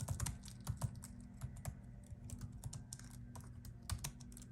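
Quick irregular tapping on a computer keyboard, close but quiet, with bursts of keystrokes and brief pauses, no voices over it.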